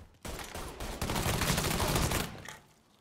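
A burst of gunfire in Mafia III sounds as a dense, rapid volley of shots lasting about two seconds, loud and close, then tails away.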